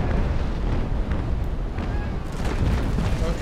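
Broadside cannon fire from a sailing warship in the Naval Action naval battle game, a dense rolling roar of booms packed together and sustained loud for several seconds.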